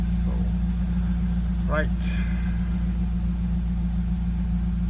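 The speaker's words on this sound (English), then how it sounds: "The car has started." A 2.2 JTS Alfa Romeo 159 engine idling steadily after starting, a close, constant low hum with a brief spoken word over it.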